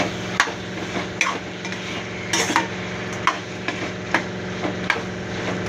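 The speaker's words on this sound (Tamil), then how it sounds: "இப்போது சிக்கனை நல்லா கிண்டி விடுங்க." Spoon stirring chicken frying with onions in a pan, repeated scraping knocks against the pan at a regular rhythm over a steady low sizzle.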